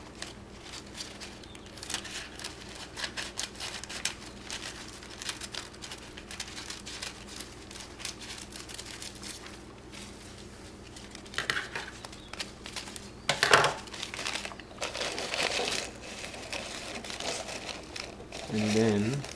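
Paper coffee filter being handled and cut with scissors for a homemade rose oil and glycerine lotion, giving soft crinkling and rustling throughout with a few sharper snips and crackles near the end, close and fairly quiet.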